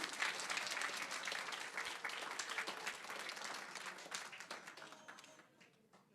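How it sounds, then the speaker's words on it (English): Students and families applaud at a school governing board meeting, a steady crowd clapping that is fairly faint and distant, gradually thinning and fading out toward the end. "let's give our students a round of applause"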